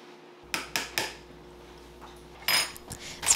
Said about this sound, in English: Stirry stir.